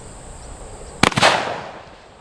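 A shotgun fires a single number 4 buckshot load at a target 7 yards away, giving one sharp, loud blast with a quick follow-up crack and a short fading echo outdoors.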